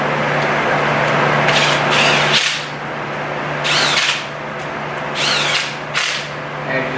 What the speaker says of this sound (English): Be careful with using electric or air to put a cover back on.